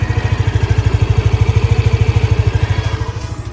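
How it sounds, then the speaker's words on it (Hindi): A second-hand Hero Pleasure scooter engine idles close by, a loud, steady, rapid putter with even pulses and no voices. "गाड़ी की साउंड वगैरह आप सुन सकते हो ज़्यादा साउंड नहीं है"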